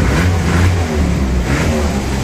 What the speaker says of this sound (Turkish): Bugün naz yapmadan tek marş diyebilecek mi?